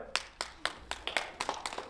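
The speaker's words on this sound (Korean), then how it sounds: "네, 뜨거운 박수 부탁드립니다." A small audience applauds at a commemorative ceremony marking a book publication and a declaration anniversary. The claps are sparse and distinct, coming in an uneven run of sharp hand claps with no voices.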